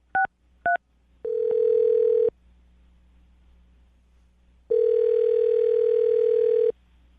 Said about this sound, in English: I'm going to dial the phone number right now, see if we can get him on the phone